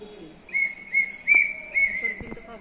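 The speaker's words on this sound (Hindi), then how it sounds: "सीटी मत बजा।" A person whistles a series of short, steady notes, about four or five in a row, close and fairly clear over a quiet outdoor background with faint bird-like chirps, with monkeys nearby.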